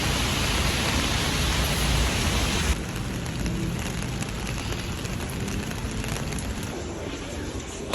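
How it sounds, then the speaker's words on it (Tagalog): Steady, dense rain pouring down, a continuous loud hiss that drops slightly in level partway through, with no voices. "It's raining."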